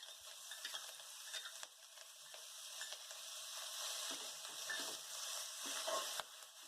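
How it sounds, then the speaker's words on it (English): Fenugreek and amaranthus leaves fry in a pan for a low-oil vegetarian biryani, giving a continuous close hiss of sizzling with faint stirring scrapes and no talking. "Then add fenugreek and amaranthus leaves and fry the leaves also."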